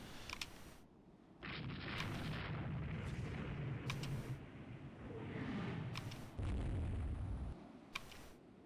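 Heavy naval guns boom in the Rule the Waves 2 video game, with several sharp separate blasts spaced across the stretch, each followed by a low rolling rumble, and no talk.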